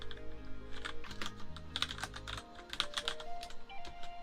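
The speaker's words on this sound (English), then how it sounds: "I should type something so you guys can hear what my keyboard sounds like" Both hands type at a steady quick pace on a computer keyboard, crisp key clicks and clacks up close in a quiet room at night, with a low background tone and no talking.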